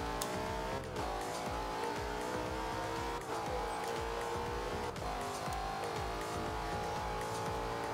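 Cars race side by side at a car meet, engines roaring continuously with revving, tire noise and steady loud drive-by rumble, mid-distance and dense, no voices.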